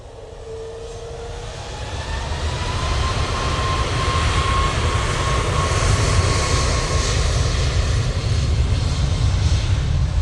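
A Ryanair jet at Manchester Airport roars close by, its engine noise swelling to a loud, sustained rumble with a faint whine gliding across it.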